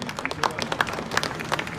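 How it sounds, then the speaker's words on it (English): Crowds applauding and cheering at a Chinese military parade near Tiananmen, with dense, steady clapping from many hands heard at a distance, and a faint voice underneath. "crowds are welcoming"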